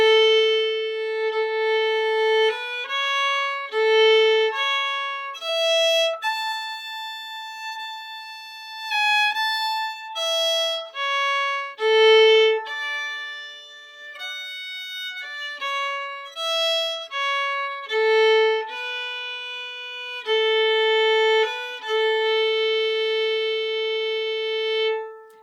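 A solo fiddle plays the second half of the Scottish march Scotland the Brave, with clear sustained bowed notes in a steady marching melody and no other sound.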